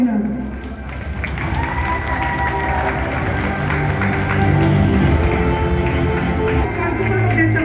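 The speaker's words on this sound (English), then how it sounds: "Please clap for them." An audience at a Teachers Day school event claps for award winners, with a sustained, dense patter of applause from a crowd filling the whole stretch at steady loudness.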